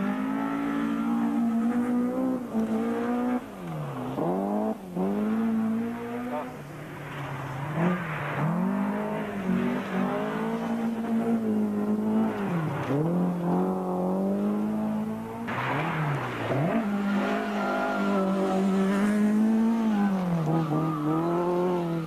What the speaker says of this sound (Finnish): toiseksi nopein yleiskilpailussa oli tässä kaasutteleva Kari Nurmi